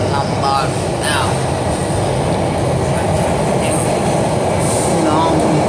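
A subway car rides along underground with a loud, steady roar of wheels and rails filling the whole stretch, faint clicks and brief high squeals on top, heard close from inside the carriage.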